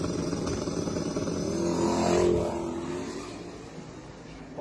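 Hot rod street car from the street-car class of a drag race final, engine building to a loud accelerating roar that peaks mid-clip, then fades away.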